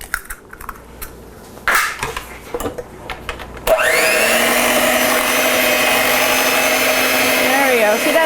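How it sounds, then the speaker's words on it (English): A blender runs steadily and loudly after a few seconds of clicks and handling, whirring through a mascarpone lemon cheesecake batter with an egg just added; the motor tone dips slightly near the end. "We're going to add the next egg in and then continue blending."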